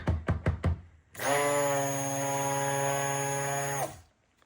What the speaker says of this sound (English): Burp your stick blender.